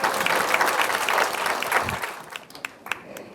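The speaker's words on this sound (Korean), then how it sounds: "큰 박수로 기념해 주시기 바랍니다." An audience at a Seoul Metropolitan Council staff event claps in a dense burst of applause that gradually thins out into scattered individual claps.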